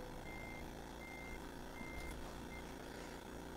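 Truck reversing alarm in Euro Truck Simulator 2, a steady series of evenly spaced electronic beeps, about four in a row, sounding over continuous engine and road rumble with no talking.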